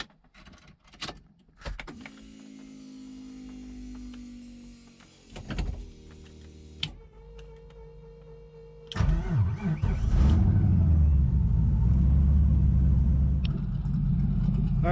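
A turbocharged LS V8 swapped into a Mazda RX-7 FD cranks and fires up after some clicks and a whirring starter. It then settles into a loud, uneven, choppy idle that lopes and rumbles close by.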